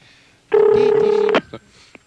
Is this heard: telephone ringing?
yes